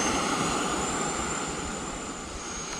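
A Horizon Hobby RC F-16 model jet takes off at full throttle, giving a loud, steady, close-up roar with a constant high whine throughout.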